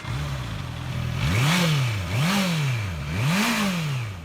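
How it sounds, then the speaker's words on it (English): A Honda CBR650R inline-four sport bike revs alone and close, its engine note climbing and falling in three quick rising blips after a steady idle, loud and clear. "The first bike is the tried and true Honda CBR650R, an inline-4 sport bike"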